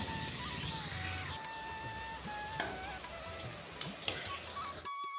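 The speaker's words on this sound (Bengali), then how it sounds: "আমরা আবারও বদিগুলিকে তেলে দিয়ে দিচ্ছি একইভাবে আমরা সমস্ত বদিগুলিকে ভেজে নেব" Gram flour boondi drops fry in hot oil for Durga Puja bonde, a steady faint bubbling sizzle with occasional light clinks of a utensil, heard up close and without speech.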